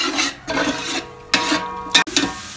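Crushed green chillies stir-fried in a pan for chicken biryani, with several bursts of scraping, rasping stirring strokes over a soft sizzle, close and fairly loud, with no talk.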